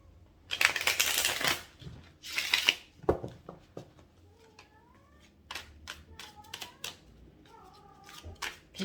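A house cat yowls and meows several times in short rising calls amid rustling, shuffling and tapping play noises, close by in a quiet room.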